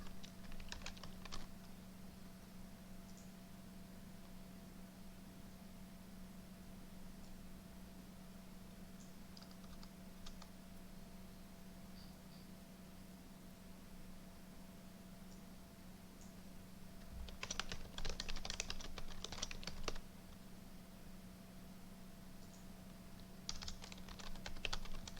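Typing on a computer keyboard with one hand while holding a mic, during play of the strategy game Kingdom of Shadows: sparse, faint bursts of key clicks with long pauses, the busiest flurry near the end, over a steady electrical hum.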